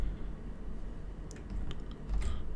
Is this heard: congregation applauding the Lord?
no